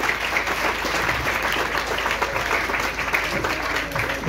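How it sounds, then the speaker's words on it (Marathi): An audience at a Marathi talk with students by a film editor breaks into dense, sustained applause, a loud continuous patter of many hands filling the room with a faint voice underneath. "मला या तिघांसाठी एकदा प्लीज टाळ्या होऊन जावं असं वाटतं."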